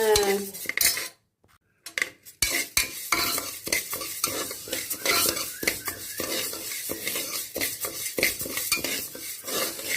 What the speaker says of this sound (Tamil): நல்லா பாசிப்பருப்பை நல்லா கொஞ்சம் ரொம்ப டார்க் ப்ரௌனாக வராமல் மீடியம் ஹீட்டில் வச்சு லைட்டாக நல்லா வறுத்து எடுத்துக்கிட்டு